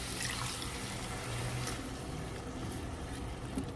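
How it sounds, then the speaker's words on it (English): Water streams steadily from a tap or jug into a pot of turkey black-bean chili, a continuous splashing rush at moderate volume with no voices. "I'm going to add a little water to that as well."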